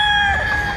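A rooster crows among chickens in a Sierra Round Head gamefowl yard, a brief loud crow.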